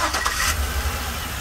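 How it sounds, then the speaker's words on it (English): A tow van's engine cranks and catches, starting up close by with a brief rattling burst before settling into a steady low running rumble. "go ahead and start her up"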